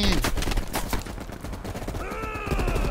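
Bursts of automatic gunfire aimed at a crate in the Call of Duty: Black Ops Cold War campaign, loud rapid shots repeating across the clip.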